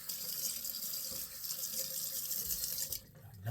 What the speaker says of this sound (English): Let me rinse right quick.